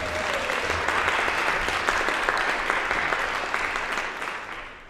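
A live audience at a talk breaks into loud, sustained applause, a dense wash of many hands clapping that holds steady and then fades away toward the end, with no voices over it.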